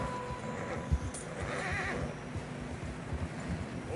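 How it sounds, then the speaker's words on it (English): Horses neigh and clip-clop through fresh snow in the video game Red Dead Redemption 2, a whinny rising over the steady thud of hooves and shuffling movement, close and continuous throughout. "Horses are getting tired."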